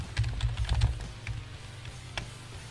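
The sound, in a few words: typing on a computer keyboard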